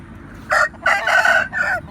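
A rooster crows close by, a loud drawn-out call in several bursts over a faint background of outdoor noise.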